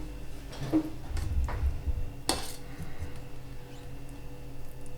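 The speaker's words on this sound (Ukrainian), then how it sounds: "Тепер я буду накладати в банки." Spoonfuls of apple puree scraped into sterilized glass jars, with faint clinks of spoon against glass and a few soft scrapes in a quiet kitchen.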